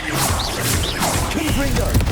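A spell cast in the video game Hogwarts Legacy amid busy combat, with a dense burst of magical whooshes, sweeping tonal effects and impact clatter, loud and crowded throughout, while a character's voice shouts over it.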